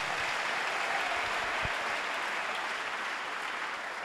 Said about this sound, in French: Acclamons le Seigneur pour les témoignages.